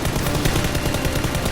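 Toy Nerf guns fire continuously in a staged shootout between SWAT and robbers, a dense, unbroken burst of rapid shots packed tightly together at steady loudness throughout.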